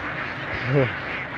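A flock of ducks walking in a line across a field, one brief nasal quack rising over steady outdoor background noise.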